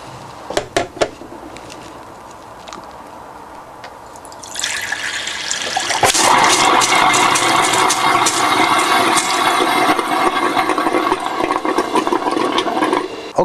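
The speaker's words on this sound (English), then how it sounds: "So let's drain our first tap." A touring caravan's tap being drained from a pressurised water system while winterising with a Floë system. A few soft clicks come first, then a steady, loud rushing hiss of water takes over from about four seconds and runs to the end.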